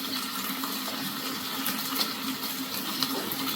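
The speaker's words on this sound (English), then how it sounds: "And a little more pasta water now." Pasta water is poured into a bolognese sauce, giving a steady broadband watery rush that holds at a constant level for several seconds, with no talking.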